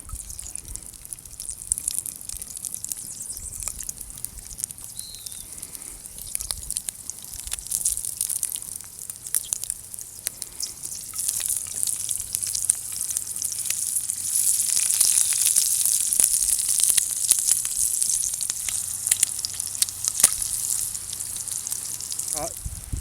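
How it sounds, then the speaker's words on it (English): Frog legs fry in sizzling hot bear lard, a steady loud crackling sizzle that holds throughout and swells slightly toward the end. "Our oil is now sizzling hot, and it's time to place the frog legs on the oil."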